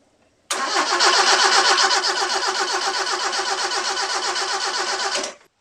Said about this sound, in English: I'm going to kick the engine over without the HT lead connected so it won't start